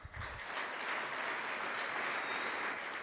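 Audience applause at a family conference morning session, a steady dense wash of many hands clapping from a sizable crowd, even and sustained throughout, somewhat distant and soft.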